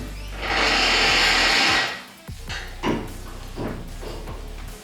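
Power drill re-drilling bolt holes to ream them wider for thicker bolts, whirring loudly for about a second and a half, then stopping, followed by several short bursts and knocks as the bit works.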